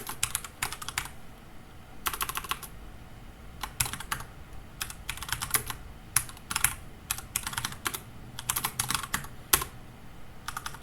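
Code is typed on a computer keyboard in quick, irregular bursts of crisp keystrokes separated by short pauses, close by and fairly quiet in a calm room.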